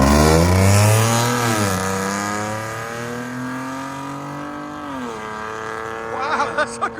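A 2016 Hyundai Genesis G80 with a 3.8L V6 and straight-piped exhaust accelerates hard, its loud, raspy note climbing through gear changes before fading into the distance.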